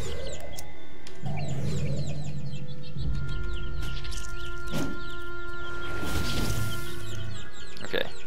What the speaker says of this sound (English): I guess we need to just kill as many chickens as possible